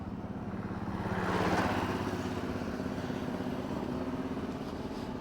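A motorcycle rides along a road near Tarakeswar, its engine giving a steady, close drone that swells briefly and then settles into an even hum, with no voices.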